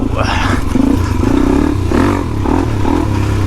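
A Suzuki DRZ 400e motorcycle with upgraded gearing is ridden in first gear, its engine droning loud and steady throughout with slight rises and dips in revs, plus some wind and rattle.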